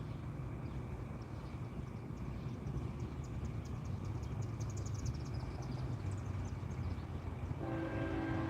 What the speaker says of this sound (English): here's our next train coming in hot